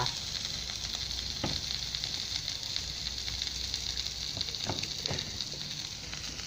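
Fried rice with naem sausage crackles in a hot pan, a steady close sizzle with a few sharp stirring knocks scattered through it.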